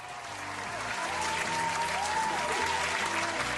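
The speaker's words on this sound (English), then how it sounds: "Can we get a round of applause for Claire Burr right there?" A crowd of viewers claps in a round of applause for a person being thanked, dense steady clapping that holds from start to end, with faint tonal sounds under it and no voices.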